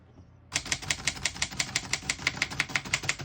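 Rapid, even keystrokes clack on a 1932 Remington Portable mechanical typewriter, about a dozen sharp metallic strikes in a steady rhythm, close up and alone.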